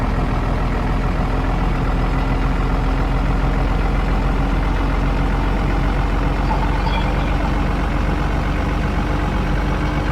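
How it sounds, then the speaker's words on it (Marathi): An Indian-style desi truck engine in the mobile driving game Truck Masters India runs steadily, a loud, continuous low rumble with a constant drone throughout and no talking. "desi style truck"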